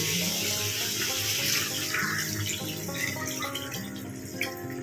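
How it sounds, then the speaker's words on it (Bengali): Water is poured steadily into a pan of Bengali fish curry with spices fried in oil, a continuous gushing, splashing flow that fills the whole stretch with no talking. "এবার এটা আমি অ্যাড করে দেবো হলো জল"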